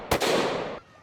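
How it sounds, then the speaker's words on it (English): A single loud pistol shot from a Desert Eagle or .500 Magnum, a sharp close blast followed by a broad roaring decay that cuts off after under a second. "take a few shots with the Desert Eagle and a few shots with the 500 Magnum in slow-mo"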